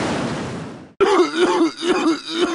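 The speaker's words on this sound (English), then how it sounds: "Sounds like you got a nasty cough." A raspy, hacking cough in a radio commercial from the video game GTA San Andreas, loud and close. It is heard as rough, throaty bursts after a fading noisy bed of sound.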